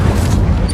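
A loud, dense burst of booming fire erupts in Hogwarts Legacy as the Incendio spell is cast, a thick, low roaring whoosh filling the brief moment at close range.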